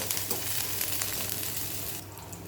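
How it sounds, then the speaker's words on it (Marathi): Green chillies fry in oil on low heat until crisp, giving a soft, continuous bubbling sizzle heard close up. "हे पहा अशी मिरची तळून घ्यायची आहे"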